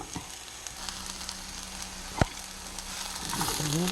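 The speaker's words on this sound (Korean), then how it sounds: "표고버섯도 옆에 같이 들기름에 어, 구워줍니다" Shiitake mushrooms sizzle in perilla oil on a grill beside dried pollack, a steady soft frying hiss with one sharp crackle midway, close and fairly quiet.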